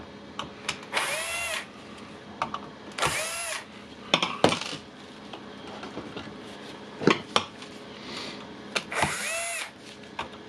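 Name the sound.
unscrewing screws on a Makita radio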